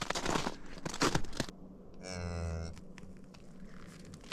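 A cow from an original herd moos once just after calving on a cold, frosty morning, a clear mid-length harmonic call following rustling and handling noises nearby.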